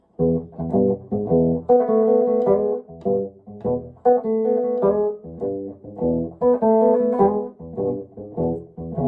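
An electric guitar plays a Chicago blues lick over a rhythm pattern, with loud, close picked notes in steady, busy phrases and no voices.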